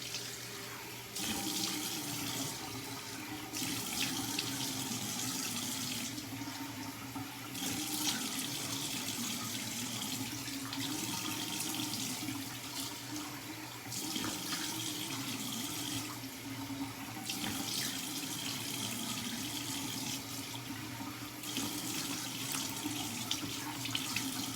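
Cold water runs steadily from a tap into a sink while a face mask is rinsed off, a constant close splashing rush with small shifts as hands move through the stream.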